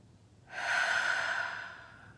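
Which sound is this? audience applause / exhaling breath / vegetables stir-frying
exhaling breath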